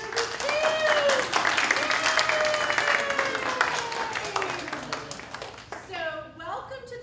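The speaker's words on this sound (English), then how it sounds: "Let's give ourselves a round of applause for getting through this too." Faculty at a learning academy session clap for themselves, a moderate round of applause with voices calling out and laughing underneath, tapering off as people start talking.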